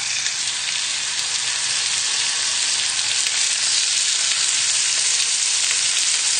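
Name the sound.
cod fillets frying in hot oil in a pan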